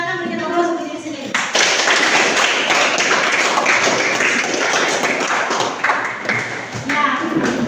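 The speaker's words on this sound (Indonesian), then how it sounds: "silakan berikan aplaus untuk diri sendiri" A classroom of students clapping for themselves, a dense burst of applause that starts after a second of talk and carries on steadily, fairly loud, with a few voices mixed in.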